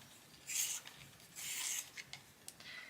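An emerald green colored pencil is sharpened in a few short, quiet scraping bursts with brief pauses and small clicks between them, close up and alone.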